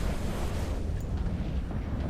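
Huge Doomsday weapon blasts in the EVE Online space game roar as a dense, continuous low rumble throughout, loud and close with no talking.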